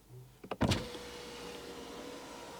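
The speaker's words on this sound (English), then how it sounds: "And also listen to the sound this window opens." A Geely EX5 electric car's power window opens: a short mechanical click and thump, then a smooth, quiet, well-damped motor hum that runs steadily, close by and with no talk.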